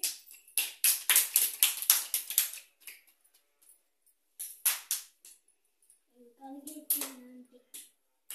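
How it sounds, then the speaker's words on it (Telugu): A group of children claps loudly in quick bursts, pausing between rounds, with a brief voice heard near the end. "ఒకసారి గట్టిగా క్లాస్ కొట్టండి ప్రేమ్కి"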